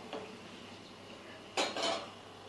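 A spoon scraping and clanking against a pan while spice powder is mixed in for a prawn and okra curry, a few quiet stirs then two louder metallic scrapes close by.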